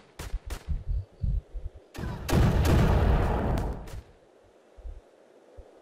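Explosions and gunfire in the war video game Tiny Troopers: a run of short booming hits, then a sustained roaring blast lasting about two seconds, trailing into a few scattered thumps, loud and close.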